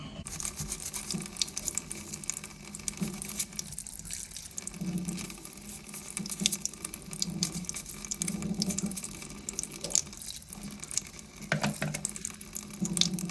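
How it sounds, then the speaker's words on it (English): Warm water runs from a tap into a sink while a toilet joker valve is hand-scrubbed with an old toothbrush, the steady flow broken by brief splashes and scrubbing noises, close and fairly quiet. "this I will manually clean just with warm water and an old toothbrush here"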